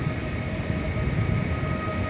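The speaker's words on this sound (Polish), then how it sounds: "widzicie, że pociąg zjeżdża" A train rolls into a railway station in Gliwice, a steady loud rumble with a low mechanical drone throughout and no talking.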